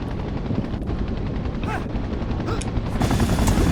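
Helicopter from the Spider-Man 3 video game on PC, a loud continuous rotor thump with bursts of gunfire and impacts layered over it.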